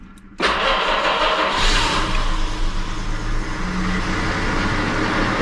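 A Jaguar XJ6 Series 1 with a 4.2L triple-carburettor engine cold-starts on choke: a brief crank bursts into a loud running engine that settles into a steady, rough idle, close by and with no talking.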